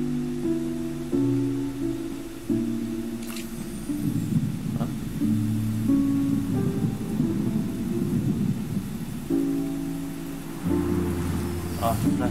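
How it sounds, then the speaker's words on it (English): Steady rain hiss and low thunder rumbles in Genshin Impact play beneath soft melodic game music, holding an even level throughout. "It's raining again?"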